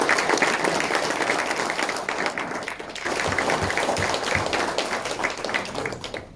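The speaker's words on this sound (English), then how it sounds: "let's give the mayor another round of applause" An audience at a local government function claps for the mayor, a loud, dense and sustained round of applause that carries on for several seconds before slowly thinning out.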